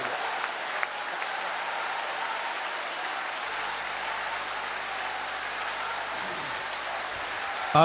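Steady, moderate applause from a crowd at a youth yoga camp, a dense even patter of clapping that holds throughout at middling loudness.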